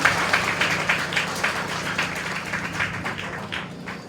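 A church congregation breaks into steady, rhythmic clapping during a Hindi-language sermon, many hands together filling the space at an even volume with no talking over it.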